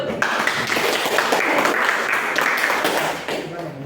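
A group of students in a classroom claps their hands together, a dense burst of close applause that holds for several seconds and then fades.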